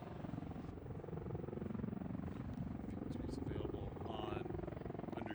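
An MV-22 Osprey tiltrotor comes into a hover at an airshow, its heavy rotor thump and engine roar filling the air steadily while someone talks over it.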